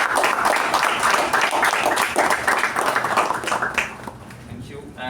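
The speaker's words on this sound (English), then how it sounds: "Can we have a special round of applause for" A round of applause breaks out at a club meeting installation ceremony, loud crowded clapping from many hands that holds steady for several seconds and then tapers off, with a voice speaking briefly at the end.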